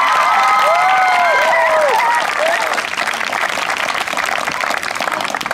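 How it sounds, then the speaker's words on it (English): Applause and cheering from a youth basketball team and its supporters after a game, loud sustained clapping with excited high-pitched shouts and whoops early on, settling into steady crowd clapping. "So give yourself a round of applause."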